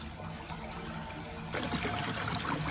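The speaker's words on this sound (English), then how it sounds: "So this water is coming straight from the mountain." Hot spring water trickling from the mountain into a private outdoor tub, a steady splashing stream close by that grows slightly louder partway through.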